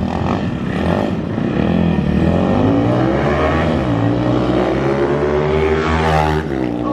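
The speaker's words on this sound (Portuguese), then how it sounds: "a moto empina" A Pop 285cc motorcycle engine revs hard and loud, its pitch climbing and falling through sustained acceleration as the bike wheelies, with no talking.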